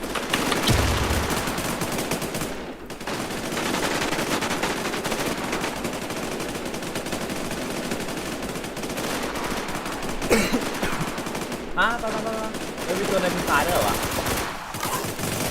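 Rapid gunfire from the online zombie survival shooter WarZ, bursts and sustained automatic fire over a dense game soundscape, loud and continuous with brief pauses, with speech mixed in.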